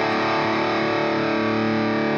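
A heavily distorted electric guitar power chord in Drop D tuning rings out steadily, thick and sustained with a buzzing, saturated low end, no voices.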